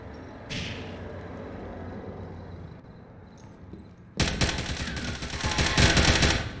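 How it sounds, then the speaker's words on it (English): Gunfire in a Call of Duty tournament match, with a shotgun kill: a brief burst early on, then a loud, dense barrage of rapid shots erupting midway and continuing to the end. "Ace gets Leezy with a shotgun kill."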